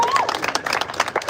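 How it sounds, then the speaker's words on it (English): Applause at an outdoor venue in Portland, Oregon: a handful of people clap in separate, uneven bursts, with a crowd talking underneath. "so let's give a round of applause to them."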